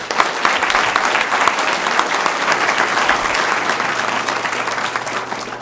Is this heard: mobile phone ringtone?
no